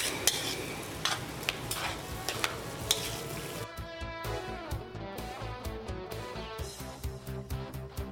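Empanada filling ingredients being stirred together, with scraping and clinking of a utensil in a bowl or pan, close and moderately quiet, and a strong music bed taking over partway through.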